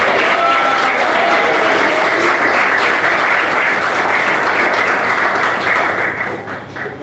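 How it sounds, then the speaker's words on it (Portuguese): A church congregation applauds steadily and loudly, a dense wash of clapping from many hands that holds for several seconds before fading at the end. "Pode bater palmas"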